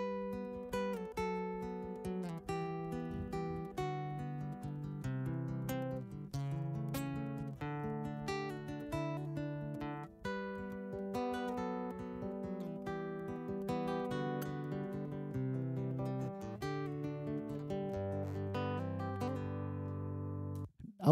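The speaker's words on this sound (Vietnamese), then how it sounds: "Ông vừa so sánh tiếng âm thanh của cây Grand Concert và cây ACS cho các bạn coi." Nylon-string Godin MultiAc Grand Concert and ACS guitars are played in turn, sustained plucked notes and chords ringing steadily and fairly loud throughout, with no talking over them.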